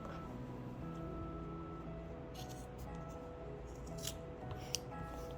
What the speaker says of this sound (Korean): 다 박으셨으면 옆선 시접 부분만 가위집을 내주시고요. 이렇게 파내듯이 잘라주세요.